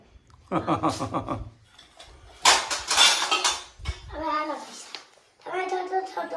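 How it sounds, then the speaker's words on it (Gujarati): Old metal kitchen utensils clatter and clink as they are handled and washed, in short bursts of ringing metal, with voices talking around them. "ગાઈસ અમારે તો જૂનો વાસણ ધોવાય છે"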